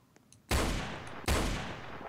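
Gunfire in the Roblox game Blood Moon Tycoon: two sharp, loud shots about 0.75 seconds apart, each ringing out with a decaying tail after a quiet start.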